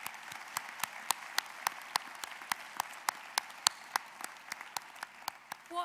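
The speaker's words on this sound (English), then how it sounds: "I think we should just all give each other a massive round of applause" Sparse, regular claps at a graduation ceremony, one pair of hands striking steadily about three or four times a second, fairly close and quiet, with no talk over them.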